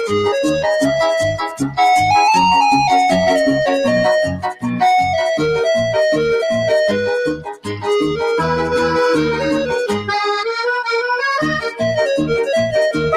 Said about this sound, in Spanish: Qué lindo suena el acordeón, mi vida.